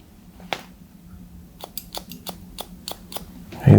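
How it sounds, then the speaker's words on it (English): Scissors snip a man's wavy fringe in a series of quick, close, crisp cuts, about eight separate snips in a short burst. "so we need to cut that up a little bit."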